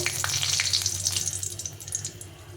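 A dry red chilli hits hot oil in a pan while cooking, giving a steady bright sizzle with crackling pops over a low background hum.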